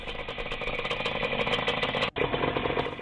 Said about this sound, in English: Yamaha RD125 Twin.